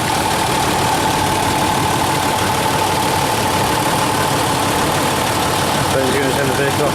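A 2006 Land Rover Discovery 3 with a 2.7 litre turbo diesel V6 idling close by, a loud, steady, even diesel rumble throughout, with someone talking over it.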